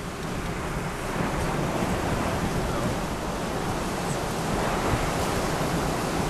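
Strong wind roars during a Wisconsin tornado storm, a dense, steady rushing noise that surges slightly in places, loud and close with no voices.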